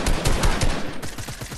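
Rapid video game gunfire, a quick burst of loud shots at first that thins into steadier single reports, all close and dry with no voices.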